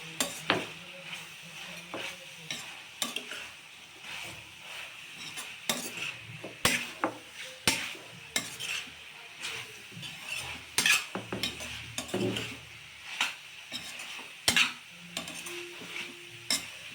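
Chicken curry ingredients stirred in a pan, with repeated scraping and clinking of a utensil against the metal, uneven in rhythm over a soft background hiss, close and fairly loud, no talking.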